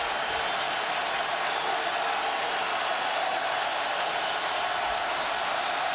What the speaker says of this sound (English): And the crowd gets into it once again, egging on the defense on a 3rd and 12.